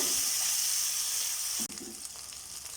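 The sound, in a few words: okra (lady's finger) frying in a pan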